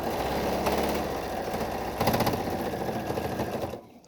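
A sewing machine runs steadily as it stitches a fabric face mask with insert pockets. The loud, fast mechanical chatter stops abruptly just before the end.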